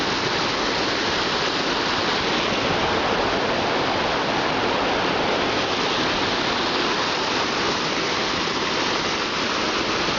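Waterfall on Brandywine Creek in Wilmington, Delaware, a dense, steady roar of rushing water filling the whole clip, loud and close with no breaks.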